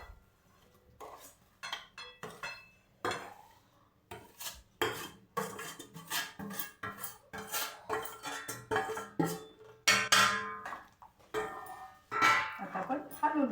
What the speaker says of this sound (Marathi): आता आपण हलवून घेऊया असं.